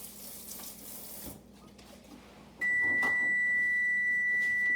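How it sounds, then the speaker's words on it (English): A kitchen tap runs into a sink as hands are rinsed, a soft water splash that cuts off partway, followed by a sustained electronic beep from an oven signalling it is ready. "I'm going to rinse my hands off."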